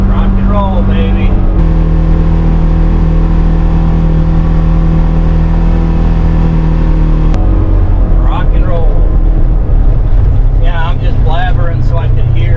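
A 2022 Polaris Ranger Northstar Ultimate utility vehicle on new tires drives with a loud, steady engine drone that shifts in pitch partway through, while people talk over it throughout.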